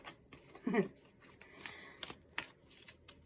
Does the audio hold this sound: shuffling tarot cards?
yes